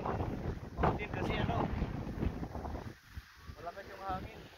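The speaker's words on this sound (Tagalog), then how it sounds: "malakas yung hangin." Strong wind buffets the microphone at Mission Bay, Auckland, New Zealand, a loud, continuous roar with gusts, while people talk under it.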